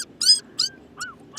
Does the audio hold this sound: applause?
no